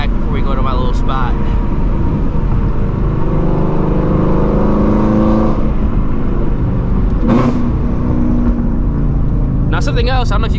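A 2016-2020 Shelby GT350 Mustang under way on the road, its engine and exhaust droning loudly from inside the car with rising and falling revs and brief sharper bursts near the end.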